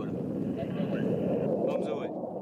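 French Mirage fighter jet passing overhead on a hot day, a steady, loud broadband roar lasting throughout with wind-like rushing, fading slightly at the end.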